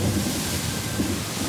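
Heavy rain pouring down steadily on an island camp as a hurricane storm passes, a dense, loud, continuous wash of noise with no pauses.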